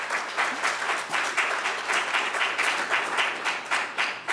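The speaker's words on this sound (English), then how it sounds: "you're getting a good round of applause for your last answer" Audience applause at a talk on campus illiberalism, a steady round of clapping from many hands, moderately loud and even throughout with no voices over it.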